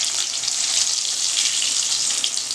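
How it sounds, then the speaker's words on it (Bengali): Potatoes fry in a pan of hot oil as the first step of a mutton curry, a steady, close, loud hiss and crackle that continues without a break and with no talk over it. "এই যে আলুগুলো একটু ভেজে নিচ্ছি আগে।"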